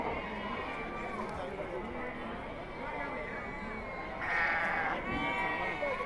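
Goats bleat at a busy Saturday livestock market in Angallu, with several calls rising over constant crowd chatter and nearby talking voices, growing a little louder toward the end.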